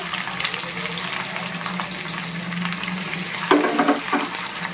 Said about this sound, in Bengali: এই যে হয়ে গেছে গরম, এবার আমি কুচনো পেঁয়াজ দিয়ে দিলাম